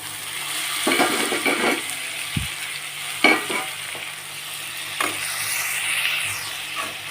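Tomatoes going into a frying pan of cucumber and potato curry, giving a steady sizzle with several scraping stir strokes and a brief clank of utensil on pan, close by with no talk.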